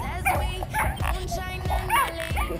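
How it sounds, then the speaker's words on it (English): A dog gives short yipping barks and whimpers close by, mixed with a person talking over it. "What are you barking at?"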